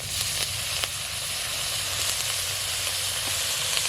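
Chopped tomato hisses and sizzles in a hot pan of amudi fish curry at a street food stall, a loud, even frying roar with faint clicks scattered through it.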